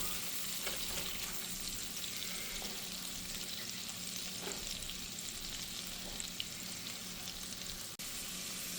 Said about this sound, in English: we're going to add our chopped jalapeno. Okay, so we're going to fry this up